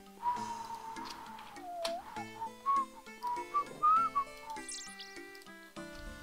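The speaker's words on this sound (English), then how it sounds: "having a bit of a whistle by yourself, mate" A person whistles a wandering, melodic tune alone, set against steady tonal music from the Old School RuneScape game, with a bright high chirp near the end.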